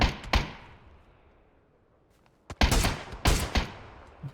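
Gunfire in the battle royale game PUBG: an early shot, then a cluster of sharp, loud reports in quick succession after a quiet pause.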